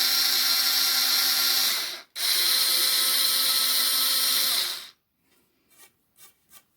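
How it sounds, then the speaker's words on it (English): A power drill bores a small starter hole for a screw during a DIY bathroom shelf build, whining steadily for about two seconds, stopping briefly, running again for nearly three seconds, then ending with a few short taps. "And then I'm going to put a circle to drill me a little starter hole."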